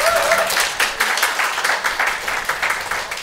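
Church congregation clapping together at a Sunday service for members' birthdays: a lively round of many hands, dense rhythmic claps filling the room, fairly loud and steady without talk.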